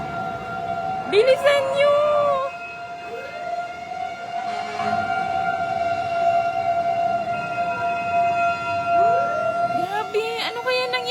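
Fire truck sirens wail as the trucks arrive at a building fire in Sampaloc, Manila, several rising and falling tones overlapping and sweeping past fairly close, with a person shouting briefly over them.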